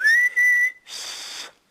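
A person whistles by breathing in, giving a loud, steady rising tone that holds briefly, followed by a softer, airy breathy whistle, close and alone with no talk.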